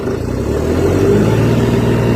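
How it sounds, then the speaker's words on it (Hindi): A John Deere 5210 tractor engine holds at full throttle around its rated rpm, giving a steady, loud diesel drone with no break and no voices. "ये मैंने फुल रेस करी है।"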